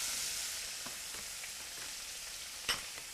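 Pieces of lean rabbit meat sizzle softly in a pan, a faint steady hiss with a few small pops and one brief clatter near the end, no talking.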